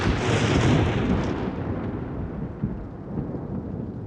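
A thunder sound effect: a loud, rolling rumble that swells at the start, then fades into a long, low, distant-sounding roll with a faint crack partway through, heard alone.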